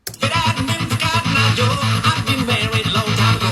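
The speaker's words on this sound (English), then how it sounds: "I just reversed the audio and I can't believe what my ears are hearing" Dense music with a smeared, backward-sounding texture plays throughout at steady loudness, with no talking.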